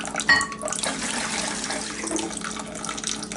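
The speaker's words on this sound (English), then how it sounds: "now you can see this container is filling much faster" Water pours steadily into a filling container, a continuous splashing hiss with a small burst near the start, moderately quiet and heard alone.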